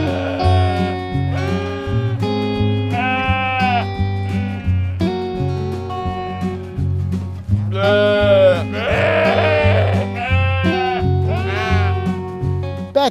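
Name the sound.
sheep bleating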